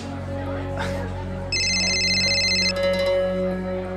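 In an indoor drama scene, an electronic phone ringtone starts partway through with steady layered tones, then turns to pulsing beeps over a low background hum and faint murmuring.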